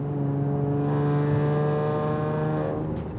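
A car engine revs up after a downshift, a steady rising harmonic drone that swells through the middle and eases off toward the end, close and continuous with no voices.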